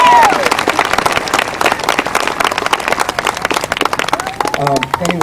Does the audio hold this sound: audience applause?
yes